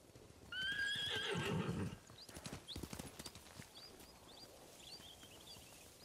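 In the samurai-era video game Ghost of Tsushima, a horse gives a loud, shaky whinny, followed by scattered hoof clatter as horses run off, with faint birdsong in the background.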